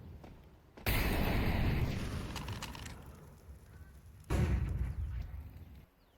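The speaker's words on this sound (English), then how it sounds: "Beastman, nade in hand, and with a plan, he sends it deep." A grenade in a Counter-Strike match explodes as a loud boom that trails off, followed a few seconds later by a second heavy blast fading out.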